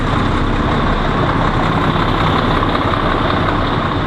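A Peterbilt 352 truck with a PACCAR engine runs steadily, a loud, close, dense low rumble that holds constant and unbroken throughout with no talking.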